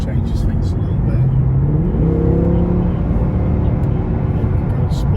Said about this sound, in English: Much more noise with about V8 engine, 450 brake horsepower